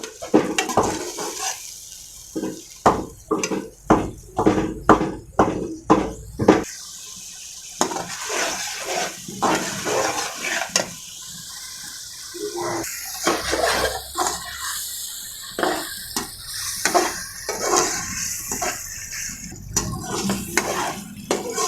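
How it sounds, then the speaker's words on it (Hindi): A paste of garlic, ginger and green chilli fries in a pan in a home kitchen, giving a broad hiss and sizzle. A spoon clatters and scrapes against the metal pan in rapid strokes. "अब इनको हम अच्छे तरीके से फ्राई कर लेंगे।"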